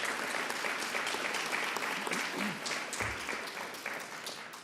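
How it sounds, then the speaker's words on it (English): An audience at a public event with Governor Hochul on Long Island claps in a dense, even wash of applause that fades gradually toward the end, a low voice briefly surfacing beneath it. "Let's give her another round of applause."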